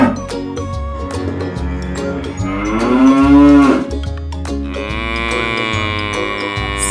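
A cow lows in several long, loud moos one after another, each harmonic call swelling and fading, recorded close with no voices present.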